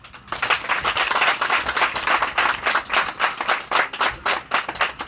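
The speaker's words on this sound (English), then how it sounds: "Let us clap for all our compatriots." Crowd clapping at a press conference during a memorial anniversary celebration: close, distinct hand claps with a pulsing, slightly rhythmic beat, loud and steady after a quiet start, with no talking over it.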